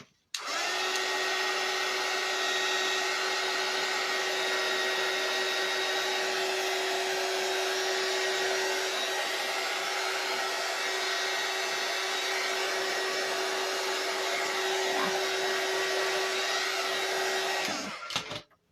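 A hair dryer blows continuously over a wet St Patrick's Day craft decoration, a steady close whine with a constant pitched hum that runs nearly eighteen seconds before cutting off.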